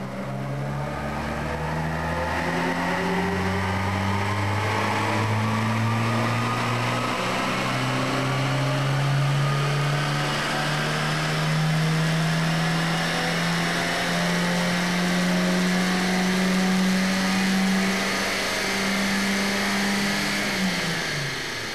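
Car engine running steadily during a power test on a dynamometer, a loud continuous drone climbing slowly in pitch as revs build over many seconds, then easing off at the end.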